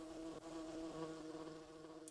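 A fly creature in Dungeon Keeper Gold buzzing continuously, a faint steady droning hum that holds without a break for a couple of seconds, no voices.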